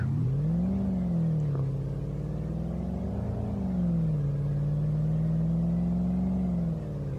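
A Porsche Panamera Turbo engine in Euro Truck Simulator 2 holds high revs steadily and rises and falls gently in pitch, a loud continuous drone with no talking.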